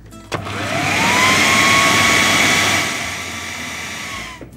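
An electric mixer beating gluten-free bread dough, a loud close whine that spins up, holds steady for a few seconds, then winds down, with a click at start and stop.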